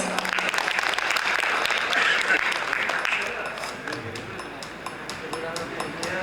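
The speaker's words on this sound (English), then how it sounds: "Can we please give a round of applause?" An audience at an urban co-operative banking summit applauds panelists, a dense round of clapping that tapers into sparser claps, with voices murmuring underneath.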